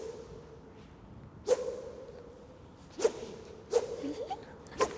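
Four sharp whooshes from a badminton racket being swung cut through quiet air at uneven intervals. Each swish is close and crisp, with a faint tonal hum underneath throughout.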